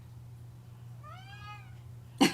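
A cat gives one clear, drawn-out meow at moderate distance against a quiet steady hum, and a sharp knock follows a moment later.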